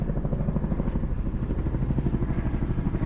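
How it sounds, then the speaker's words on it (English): A Chinook helicopter thunders close by, its rotor chop a steady deep pulsing throb over broadband engine roar, with no voices. "That's the Chinook!"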